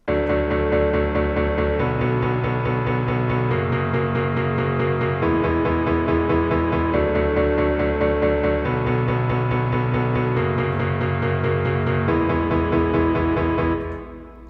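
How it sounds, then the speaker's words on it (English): Synth chords in FL Studio chopped into even rhythmic strums, steady and loud, with the chord shifting every couple of seconds and no voices. "playing the chords, but make them strum"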